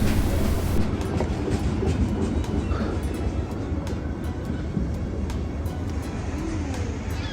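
A train rumbles steadily nearby at a station in Morocco on the Casablanca–Marrakesh line, with a constant low roar and faint rhythmic clicking on the rails, filling the whole stretch without voices.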